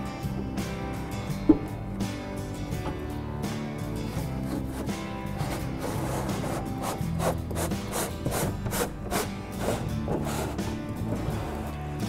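Wooden K pieces of a Vinton kitchen island slide into grooves along its back panel, giving soft scraping rubs and a sharp knock near the start, all over steady background music.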